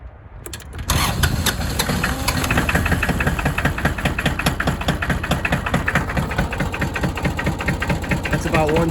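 A Massey Ferguson diesel tractor cold-starts in snowy winter weather, the engine catching after a brief crank and settling into a loud, steady, rough idle with firing pulses becoming regular; a voice speaks briefly over it.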